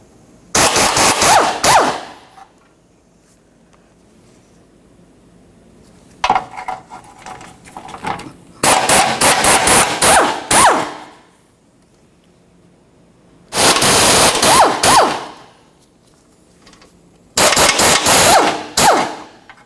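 Four bursts of rapid pneumatic impact wrench rattling, loud and close, as 14mm mounting nuts come off the transmission mount under a 2003-2007 Honda Accord subframe, with quiet pauses between bursts.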